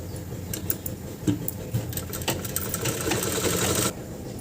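A sewing machine runs a continuous stitching burr while sewing a pleat on a kurta, close and moderately loud, with faint clicks of handling mixed in, ending abruptly near the close.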